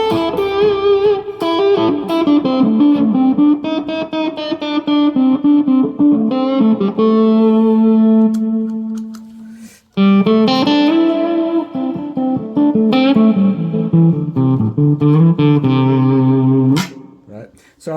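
An electric guitar played through a Quad Cortex with reverb added, clean sustained melodic lines with chords and single notes ringing out, a short pause midway, then more phrases decaying into the reverb tail.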